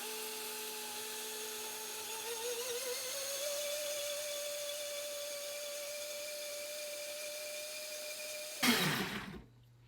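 A kitchen grinder churns soaked rice and water for Kerala vellayappam batter with a loud, steady motor whine whose pitch shifts early on, then a brief rattling burst as it winds down and stops.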